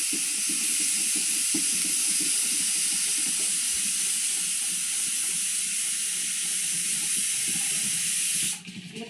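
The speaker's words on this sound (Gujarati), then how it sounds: "અને કુકરમાં પાણી ગરમ કરવા મૂકી દીધું છે" Water heats in a pressure cooker on the stove for making idli, giving a steady, even hiss that holds for several seconds and then cuts off abruptly near the end, with no talking.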